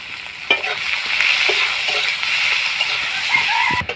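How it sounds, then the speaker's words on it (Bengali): Chopped onions frying with salt in oil in a wok, a steady close sizzle with occasional stirring clinks and scrapes, no voices. "অল্প লবণ দিয়ে পেঁয়াজটাকে ভালো করে ভেজে নেব।"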